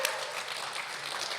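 Applause from a church audience for a speaker named Garrett Green coming on stage, a steady wash of clapping at moderate level throughout, with no clear voices over it.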